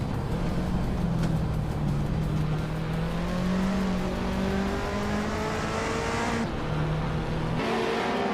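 A 1990 Mercedes-Benz 190E Evo 2 and rival racing cars drone and rev steadily in a sim race video game, engine pitch rising and falling continuously with shifting gears, loud and sustained with no talking.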